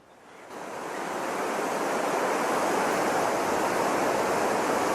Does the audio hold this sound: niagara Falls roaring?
yes